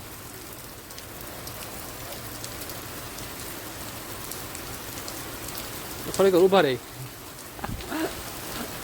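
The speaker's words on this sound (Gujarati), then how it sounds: "તો વરસાદ ચાલુ થઈ ગયો રસ્તામાં ફૂલે ફૂલ." Rain falling on a road during a journey, a steady soft wash heard throughout, with a voice briefly speaking near the end.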